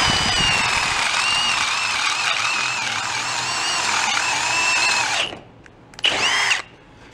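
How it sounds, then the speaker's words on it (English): Power drill boring out bushing bolts on a 1965 Ford Econoline, a steady high-pitched whine with wavering pitch for about five seconds, then a pause and a short second burst, close and loud. "be able to drill them out"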